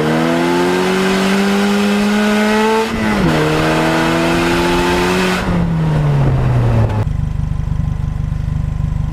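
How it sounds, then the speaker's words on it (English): Polaris Slingshot launching at full throttle with the rear tire spinning: a loud, close engine whine climbs steeply, dips at a gear change, climbs again and then gives way to a steady broad roar. "I'm going to let the clutch out, and I'm going to floor it just to see where the traction's at before I try to get a good launch"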